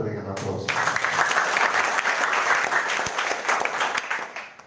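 An audience at a student association officers' inauguration ceremony in Kupang bursts into loud, dense applause that starts abruptly, holds steady, and begins to taper at the end.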